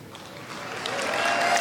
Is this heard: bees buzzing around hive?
no